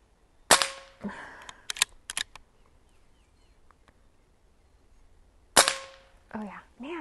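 Diana Stormrider air rifle fired at targets, with two sharp shots standing out clearly at separate moments, each followed by a short metallic ring and impact noise amid light handling sounds.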